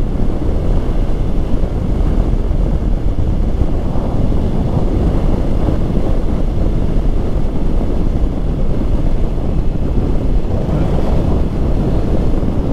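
Strong gusting wind buffets a microphone outdoors beside an Indian Scout Bobber motorcycle, a loud, constant low rumble and roar that fills the whole stretch with no speech.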